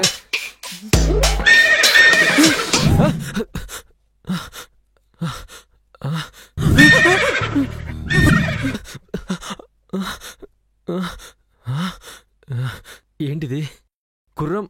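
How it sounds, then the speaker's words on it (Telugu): A horse neighs loudly in a night-time scene of a Telugu drama: two long whinnies close by, with gasps and breathy sounds between them and scattered, lighter clip-clop beats later. "గుర్రం సవార్లని శబ్దాలు వినిపిస్తున్నాయి."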